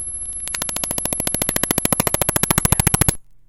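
Raw data imported into Audacity as U-law audio gives a loud, harsh digital noise that settles into a rapid, buzzing pulse train, growing more sharply clicked before cutting off abruptly.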